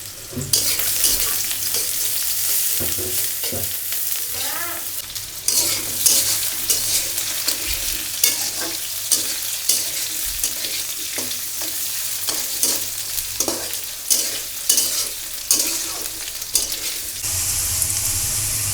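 A large amount of onion and chilli fries loudly in oil for tilapia curry, a bright continuous sizzle punctuated by frequent rhythmic scrapes and clatters of a stirring spoon against the pan.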